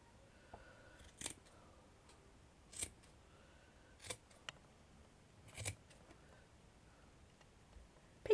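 Scissors cutting the fringe of a doll's hair, a series of quiet, sharp snips spaced a second or more apart over a faint, near-silent background.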